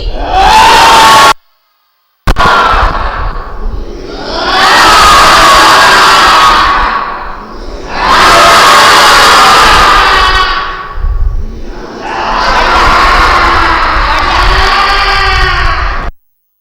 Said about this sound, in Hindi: अब जोर से चिल्लाना है एक साथ 1 2 3।